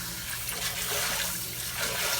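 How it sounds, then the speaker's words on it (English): Tap water runs steadily and loudly as sea moss is rinsed in a container being filled again, a continuous splashing rush with no talking. "I'm going to fill it up with water again"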